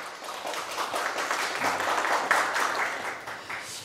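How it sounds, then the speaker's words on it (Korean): A room at a golf tournament press conference claps for the introduced players, a continuous, moderately loud patter of many hands that swells slightly and holds steady. "여러분 큰 박수 부탁드리겠습니다."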